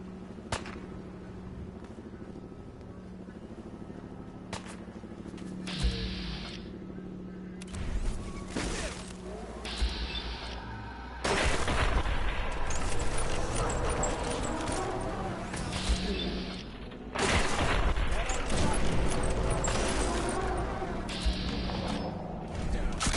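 Weapons fire in the video game Fallout 4, heard as dense, loud bursts of broadband crackle and impact that come and go in long stretches over a quieter game background, with a voice faintly present at times.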